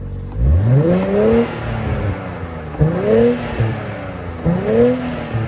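A car engine at an auction revs three times in succession, each blip rising sharply then falling back to a steady idle, loud and close with no talking over it.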